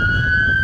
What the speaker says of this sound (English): I'm going to wait for those sirens to leave